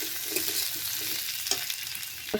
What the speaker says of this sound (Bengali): আলুগুলো ভাজা হতে হতে আমি মশলাগুলো বানিয়ে নেব।